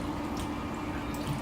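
Water running from an Enagic Level X Super 501 water ionizer: a short, steady stream pouring and trickling at close range, fairly quiet and unbroken, with no voices.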